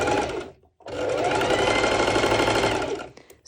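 A sewing machine runs a zigzag stitch on fabric for pole bottoms, a short burst, a brief pause, then a longer steady whirring run close up.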